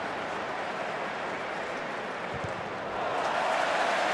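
A football stadium crowd at a Manchester United Premier League match roars as a broad, steady wash of cheering, swelling louder near the end with no clear voices on top.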